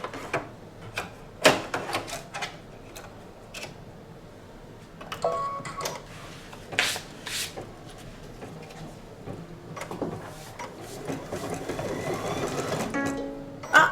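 Embroidery machine stitching out a quilt block design, rapid mechanical needle clatter in bursts and runs of varying intensity, close and alone with no talk.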